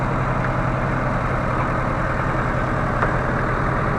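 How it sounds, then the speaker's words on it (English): A tractor engine idles and runs steadily while road chippings are levelled. It gives a continuous low, rough drone with a faint tick or two on top, close by and with no one speaking. "level it out as rough as we can with tractor, or as well as we can with tractor"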